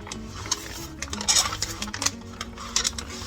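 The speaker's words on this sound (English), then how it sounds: "let's stir this again" A dehydrated camping meal stirred inside its pouch, giving a run of soft crinkling rustles and small scraping clicks at close range, irregular and fairly quiet, with no talking.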